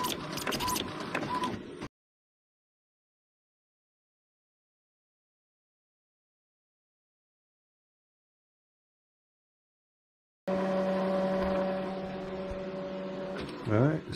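A battery of mechanical whirring from an Epson EcoTank printer printing a sticker sheet opens the clip, then cuts to a long silence before a steady motor hum with a sustained whine returns close by, ending with a few louder clunks.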